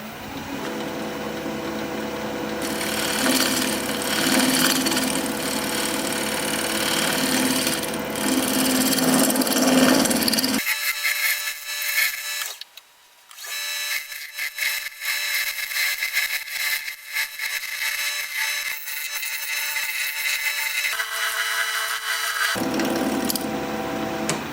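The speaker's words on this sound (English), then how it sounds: "I'm going to do a little shear scraping" Shear scraping a wooden bowl on a lathe, a steady close rasping hiss from the tool edge over the turning wood, with a long stretch where the noise thins and drops before the full scrape returns.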